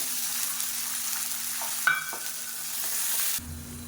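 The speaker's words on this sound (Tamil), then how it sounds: "பூண்டு நல்லா வதங்கிட்டு இருக்கு" Garlic sautéing in a pan for a thovayal side dish gives a steady soft sizzle with stirring, a brief utensil scrape partway through, and the frying hiss continuing close by with no talking.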